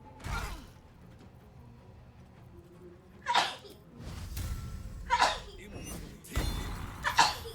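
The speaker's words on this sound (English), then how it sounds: "Never a Topher stream without a sneeze from me in the background" Several sharp sneezes and gasps from a person in the background of a gaming stream, quiet and spaced a second or two apart, separated by near silence.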